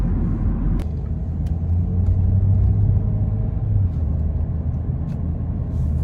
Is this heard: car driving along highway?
yes